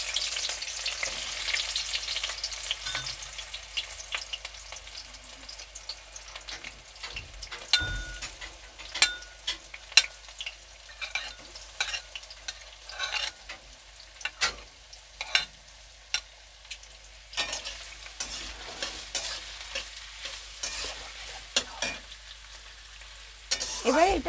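Chopped onions frying in oil with whole garam masala, a continuous soft sizzle broken by frequent scraping clicks of a spatula stirring in the pan.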